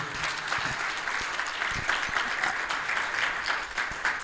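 Sustained audience applause fills a panel-discussion hall as a speaker on Ghana's 24-hour economy is welcomed and walks to the stage, steady dense clapping throughout.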